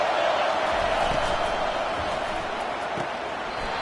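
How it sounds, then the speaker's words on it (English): A football stadium crowd roars early in a game, a broad, constant wall of distant cheering and chatter that holds steady throughout with faint thuds and a commentator's voice beneath. "This crowd bringing the energy and noise early."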